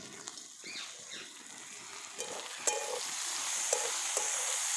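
Field beans (val shenga) sautéing in a pan over a low flame, a soft steady sizzle with occasional light scrapes and clicks of stirring, close and moderately quiet, with no talking.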